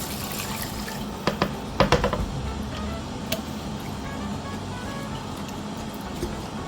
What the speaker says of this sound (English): I'm going to go in here with my chicken stock